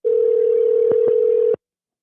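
A steady phone dial tone carried over a Bluetooth call connection, a single loud unbroken hum of about one and a half seconds with two brief clicks near the end before it cuts to silence.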